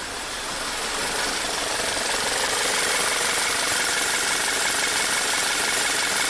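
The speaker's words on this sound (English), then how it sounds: "Let's do a cylinder drop test on number 1." A VW turbo GDI engine with a bad spark plug on cylinder one runs roughly during a cylinder drop test, giving a steady, loud, close mechanical drone with no voices.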